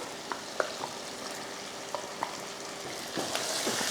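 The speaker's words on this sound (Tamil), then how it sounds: "இந்த டைமில் நம்ம அரைச்ச மசாலாவை சேர்த்துடலாம்" Ground masala paste sizzling gently in a pan while a spoon scrapes and stirs it in a few separate strokes, a steady low frying hiss underneath, close and fairly quiet, with no talking.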